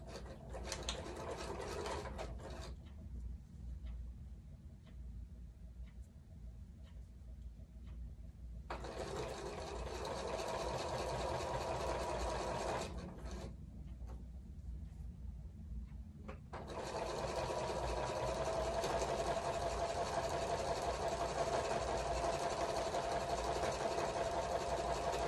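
A sewing machine stitching quilt blocks runs in three bursts of steady mechanical whirring, separated by quieter pauses, with the last run the longest and loudest, heard up close.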